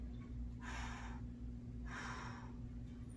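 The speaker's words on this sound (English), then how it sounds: "Breathe." Two sharp, forceful breaths, close and alone, come during a stick mobility workout, about a second apart, over a low steady hum.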